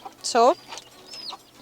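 A chicken on a horse-rescue farm in Tenerife gives a short, loud cluck close by, followed by fainter chirps, while a person briefly speaks.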